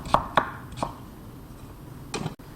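A knife slices a hard carrot on a cutting board, giving three quick crisp chops close together, a pause, then one more cut, each sharp and near against quiet room tone.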